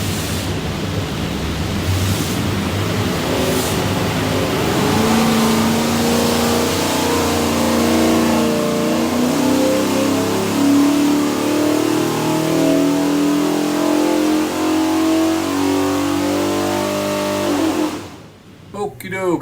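A 408 stroker engine in a 1967 Ford Bronco revs hard on a dyno, a loud, sustained roaring pull that climbs steadily in pitch for about eighteen seconds before cutting off abruptly near the end.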